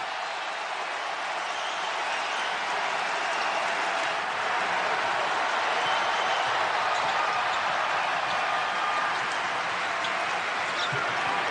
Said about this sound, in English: And now Sasha Stefanovic getting the crowd to come to life